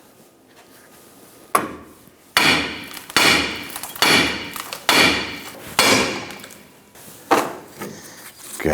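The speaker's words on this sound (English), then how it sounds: "Now we're going to use a hammer and we're going to strike the top of the knuckle." A hammer strikes the top of a steering knuckle on a 1997-2006 Jeep Wrangler about eight times in a loose rhythm to pop it off the ball joints, each blow sharp and loud with a ringing decay; one brief spoken word.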